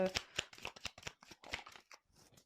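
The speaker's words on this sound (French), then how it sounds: "Allez, je prends une dernière carte" Cards are handled and drawn from a tarot deck, a quick run of close, soft crisp flicks and slides that thin out toward the end, with no clear talking.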